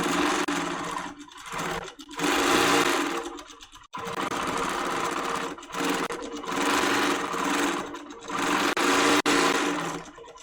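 HQ Moxie longarm quilting machine stitching straight lines, a loud, close, steady mechanical whirr of rapid needle strokes that pauses briefly several times between runs.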